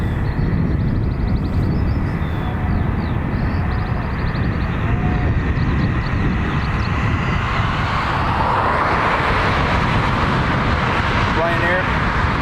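A Ryanair airliner at Dublin Airport bound for Faro gives a loud, continuous broadband engine roar that swells toward the end, with rain-like hiss mixed in, heard near and steady throughout.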